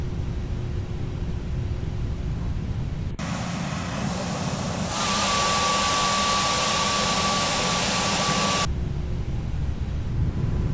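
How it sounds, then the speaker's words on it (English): Airbus A320neo with CFM LEAP jet engines taxiing in the X-Plane 11 flight simulator: a steady low engine rumble, then a loud broadband roar rising with added power, a thin whine emerging, before dropping back to idle. "Soon we can add some power and hear those engines."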